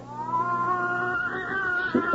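A cat meows in a radio drama, one drawn-out, wavering cry held for about two seconds, close and clear, with a brief sharper rise near the end.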